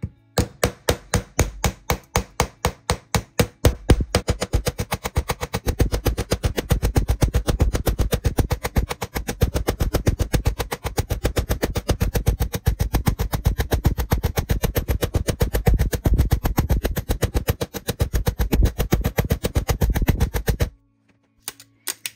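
A hammer strikes metal stamping blanks for a cicada necklace, a fast, relentless run of sharp, loud, close blows lasting around twenty seconds before stopping, followed by a couple of lone taps.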